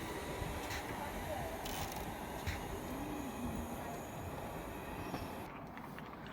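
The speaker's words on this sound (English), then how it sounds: "Passing through now is a cross-country Voyager." A CrossCountry Voyager diesel train passes through a station at Tipton, heard as a steady rumbling wash of rail noise with faint wheel squeal and a few clicks, moderately distant and continuous throughout.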